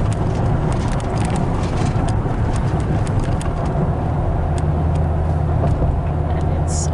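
Heavy road traffic crossing a major bridge in New York City, a loud, steady broadband roar of cars, buses and trucks that continues without a break.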